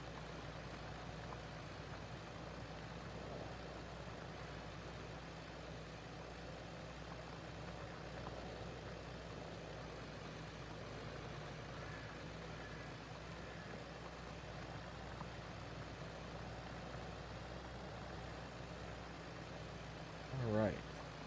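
Tractor engine in Farming Simulator 22 drones steadily throughout, pulling a high-horsepower implement behind a lower-horsepower tractor in a field, a constant low hum with a brief bump near the end.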